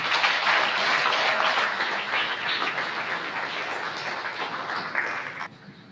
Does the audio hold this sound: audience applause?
yes